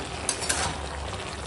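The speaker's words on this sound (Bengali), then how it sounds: "এখন তরকারিটা ফুটছে, আর আমি একটু ভালো করে একদম মিশিয়ে দিচ্ছি" Boiling spinach curry being stirred in a pan: a steady bubbling simmer with soft scraping stirs and a couple of light utensil taps, close and continuous with no voices.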